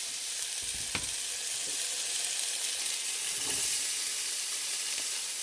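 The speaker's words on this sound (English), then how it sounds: "let's go ahead and get our onions in and our potatoes" Onions and potatoes sauté in melted butter in a pot for purple cabbage soup, giving a steady close sizzling hiss with a few soft stirring knocks, no talking.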